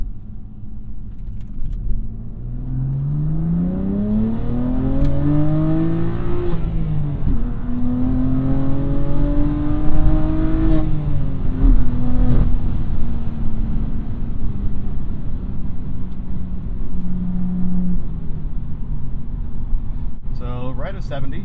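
A BMW M2 Competition with a Valvetronic equal-length valved exhaust pulls hard from cruising speed, its engine note rising steadily and loudly in pitch through the gears, with a driver talking over the sustained roar.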